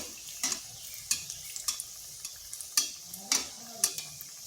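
Cauliflower and egg pakoras frying in oil, a soft bubbling sizzle broken by several sharp clicks and taps of a utensil against the pan at an uneven rhythm, with no talking.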